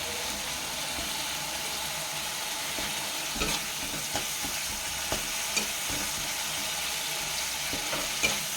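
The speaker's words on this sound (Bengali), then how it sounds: "কাঁচা লঙ্কা অ্যাড করা হয়েছে। দিয়ে একটু ভালো করে নাড়িয়ে নেওয়া হচ্ছে" Masala with green chillies frying for katla fish kalia, stirred steadily in the pan: a continuous sizzle with a few light scraping knocks from the spoon, close and fairly even throughout.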